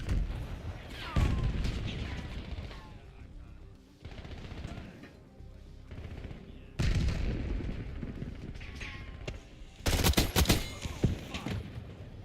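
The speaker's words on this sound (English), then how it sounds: "Frag thrown." Gunfire and a thrown frag grenade in a shooter video game: loud, rapid bursts of shots with booming blasts, broken by short lulls and a sharp, dense burst near the end.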